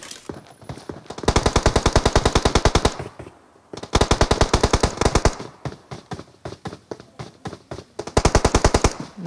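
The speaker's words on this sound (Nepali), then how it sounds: "डिजे भाइले पड्काउँछ" Rapid automatic gunfire in a video game, fired in several long, loud bursts of tightly spaced shots with short pauses between them and no talking.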